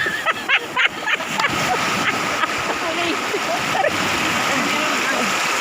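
Rushing river water splashes and churns in a steady, loud wash for the whole stretch, with brief sharper splashes near the start and voices faintly mixed in.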